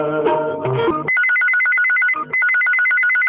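A telephone rings in on a Chhattisgarhi-song call-in radio show from Raipur, first over the tail of music, then a loud repeating electronic two-tone ringtone trill with a brief break, alone and close.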